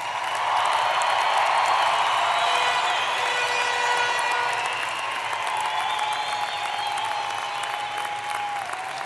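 An audience at a university commencement ceremony applauds the graduates, a sustained, dense round of clapping that fills the hall, loud at first and easing slightly toward the end while some background music tones linger.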